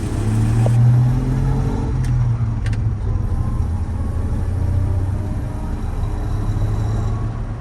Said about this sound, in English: taking our 1959 Apache here for a quick test drive